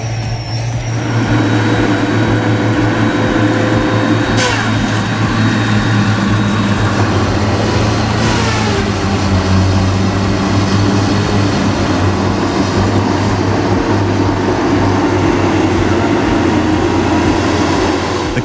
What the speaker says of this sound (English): The Caterpillar TK711 Feller Buncher is a tracked forestry machine designed specifically for quickly cutting and gathering trees in roadside areas or rough terrains